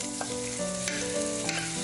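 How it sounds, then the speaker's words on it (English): A shrimp and green onion pajeon fries in hot oil with a continuous sizzle under steady background music, with no speech. "Cook for 3 to 4 minutes. Let the bottom of the pajeon to harden."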